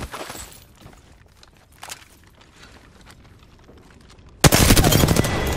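Automatic gunfire in Apex Legends: after a few seconds of quiet footsteps and faint clatter, a loud, dense burst of rapid shots breaks out and keeps firing to the end.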